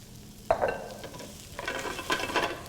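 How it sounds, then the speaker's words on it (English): Sliced crimini mushrooms drop into a hot pan with garlic and thyme, a clatter followed by a steady sizzle and stirring scrapes, close and moderately loud. "then I'll add my pound of sliced mushrooms"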